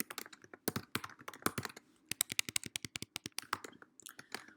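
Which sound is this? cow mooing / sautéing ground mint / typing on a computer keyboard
typing on a computer keyboard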